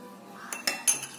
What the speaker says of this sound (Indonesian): Kita aduk pakai sendok dulu ya.